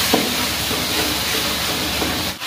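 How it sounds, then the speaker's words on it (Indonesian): Ground spice paste frying in hot oil in a home kitchen, a loud, continuous close sizzle and hiss with faint stirring scrapes and no voices. "Bumbunya digoreng dulu ya."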